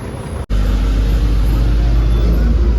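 Road traffic in a slow-moving jam on a badly broken road between Chakan and Shirdi: a loud, close, continuous engine rumble that briefly cuts out, then returns as a steady low drone.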